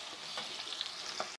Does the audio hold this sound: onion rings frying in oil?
yes